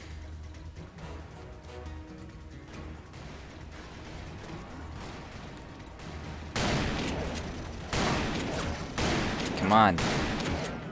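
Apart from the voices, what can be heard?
Gatling gun fire in Call of Juarez video game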